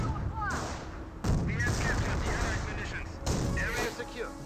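Gunfire in the World War II strategy game Company of Heroes, scattered shots and bursts rattling across a battlefield under a steady din, with a voice talking through parts of it.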